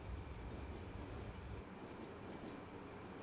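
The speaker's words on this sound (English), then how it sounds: "Here comes the train." A Rhaetian Railway train on the Albula Line runs in Train Simulator, a steady loud rumble and roar of wheels on track, with a faint high squeal briefly on top.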